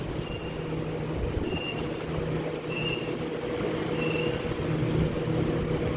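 A Sydney Waratah electric train rolling at Chatswood station, a steady rumbling drone with periodic high wheel squeals repeating every second or so, moderately close and unbroken by voices.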